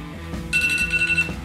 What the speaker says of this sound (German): Mein Wecker klingelt.